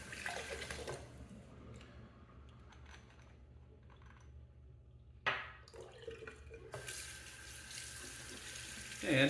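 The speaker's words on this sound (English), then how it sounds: "I'm gonna go ahead and drain the sink because there is a ton of stuff in there." A bathroom sink draining after wet shaving, with gurgling water and a running tap that fade to near quiet, then bursts of rushing water return near the end, fairly close and moderately loud.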